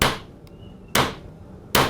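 Three heavy hammer blows ring out on hot steel at a traditional knife-forging workshop, spaced roughly a second apart, each a loud sharp strike with a lingering metallic ring, alone and without talk.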